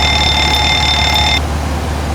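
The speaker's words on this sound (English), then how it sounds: "an alarm is going off telling us we haven't" Takeoff configuration warning alarm in a PMDG 737NGX cockpit in FSX, sounding as a loud steady high electronic tone for about a second and a half over constant cockpit hum, then cutting off abruptly.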